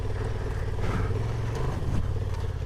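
A dirt bike climbing a steep dirt hill in first gear, its engine droning close and steady with small rises in revs and some clatter, heard alone.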